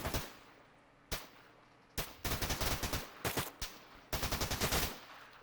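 Rifle fire in ARMA 3: single loud shots followed by rapid strings of automatic bursts, sharp and close, with brief pauses between volleys and no speech.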